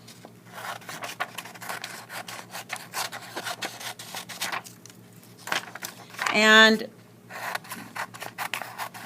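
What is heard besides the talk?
paper cut with scissors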